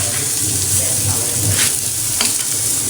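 Beaten egg being stirred into sautéed bitter gourd (ampalaya) in a hot pan, with a steady loud sizzle and soft scraping strokes of the stirring throughout, plus a couple of brief utensil clicks.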